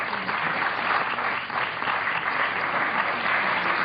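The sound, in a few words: audience applause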